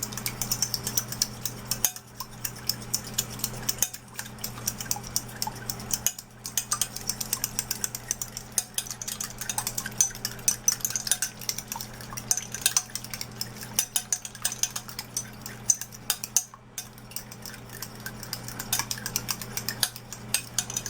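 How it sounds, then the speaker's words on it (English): Eggs are beaten in a bowl for an omelette, a fork or whisk clattering rapidly and steadily against the sides in continuous close scraping ticks with brief pauses. "you make sure you beat the egg properly"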